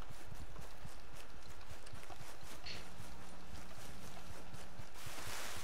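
A horse walks in Red Dead Redemption 2, its hooves clip-clopping in a steady, even rhythm throughout. The footfalls sit close over a constant background ambience.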